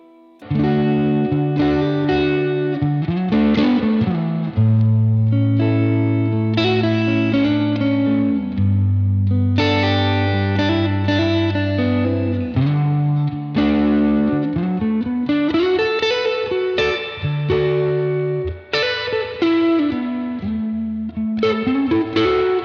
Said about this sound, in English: Now I want you to just hear how awesome this reverb is.